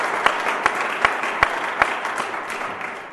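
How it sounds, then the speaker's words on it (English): Audience applause at a political candidacy announcement, a brief burst of clapping with a few sharp claps standing out, fading toward the end. "Give him a round of applause."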